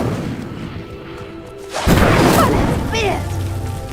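In Hogwarts Legacy, an Incendio fire spell ignites a pyre with a sudden deep whoomp partway through, then a crackling, roaring flame surge with a brief swooshing sweep over it.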